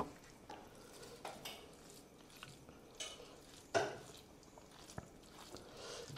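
A spoon stirs cucumber masala curry in a pan, giving faint, scattered clinks and scrapes of metal against the pan with soft rustling between them in a quiet kitchen.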